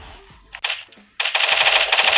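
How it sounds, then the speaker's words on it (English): Gunfire in the Free Fire Max video game: a few scattered single shots come first, then a loud, sustained automatic burst that runs to the end. "So I'm shooting at him."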